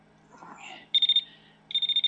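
An electronic device near a Keshe plasma reactor beeps in two quick bursts of rapid repeated high tones, close and clear, after a brief soft murmur at the start.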